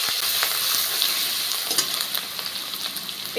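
Onion fries in hot oil with garlic and whole spices, a dense, even sizzle held close and steady throughout, a few soft stirring scrapes and no talking.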